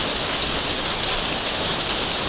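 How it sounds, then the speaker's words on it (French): Steady, dense rain drums on a veranda roof, a continuous loud hiss of drops close by with no pauses and no voices. "c'est de la pluie, je suis dans une véranda"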